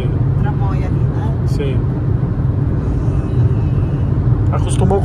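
Steady low rumble of road noise inside a moving 2022 Fiat Cronos 1.3 S-Design, loud and constant, with people talking quietly over it.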